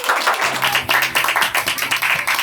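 A crowd at a graduation ceremony applauds a graduate, with dense, steady clapping from many hands that stays loud throughout and carries no speech.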